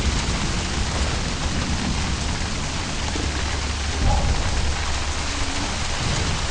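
Steady, dense rain with low thunder rumbling through a stormy scene in the video game Middle-earth: Shadow of Mordor, a continuous wash of downpour that stays loud and even throughout, with no voices.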